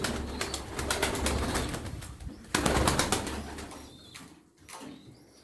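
Several pigeons at a Darıca bird sale coo in overlapping, rhythmic bursts close by, with brief flapping of wings and no speech.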